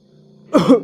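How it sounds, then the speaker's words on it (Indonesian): A short, close throat clearing, a quick guttural rasp in two pulses following a low hum. "itu namanya berdehem atau dibatukkan"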